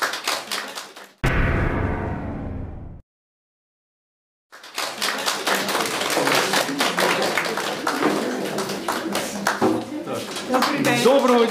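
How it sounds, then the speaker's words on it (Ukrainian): An audience applauds the actors at a poetry theatre performance held in a library: a short burst, then a brief pause, then sustained, full clapping from many hands lasting several seconds. "І привітаємо наших акторів аплодисментами"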